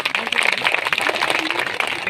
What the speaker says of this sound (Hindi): इसको और जोरदार तालियों से स्वागत किया